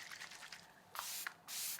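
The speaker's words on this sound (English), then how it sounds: "I'm going to use my Makeup by Mario Surreal Skin Soft Setting Spray." Makeup by Mario Surreal Skin Soft Setting Spray misted from a pump bottle in two quick bursts, close and soft, with a faint hiss between them and no talking.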